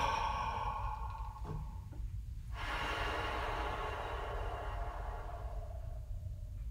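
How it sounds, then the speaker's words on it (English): Deep breathing during a chorus singing breath exercise, a long slow inhale followed by a sustained airy exhale, close and clear, with no talking. "Breathe with me."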